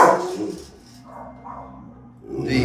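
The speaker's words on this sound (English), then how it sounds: "A lot of good dogs in here today." Rottweilers and a Cane Corso bark in a kennel, a couple of loud close barks at the start and end with quieter whines and low sounds in between.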